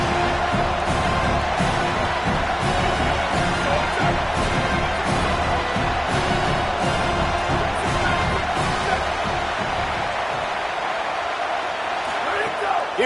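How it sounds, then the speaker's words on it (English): A packed football stadium crowd roars continuously at a BBCFL game, a dense sustained wall of cheering and noise with a commentator talking over it throughout. "Listen to this crowd just shaking the girders of this place trying to help their defense"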